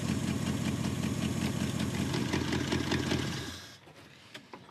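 A Jeep J engine with a carburetor in need of rebuilding idles with a steady, fairly loud rumble for about three seconds before dropping off sharply into near quiet with faint clicks.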